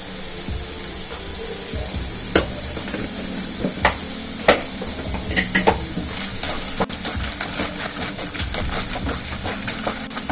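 Garlic chutney ingredients sauté in a hot pan, with a steady sizzle throughout and a few sharp spatula scrapes and clicks scattered over the ten seconds.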